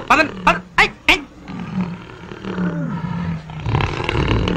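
A bear roaring in a Telugu comedy scene, several sharp loud roars in quick succession followed by lower sustained growling and background noise.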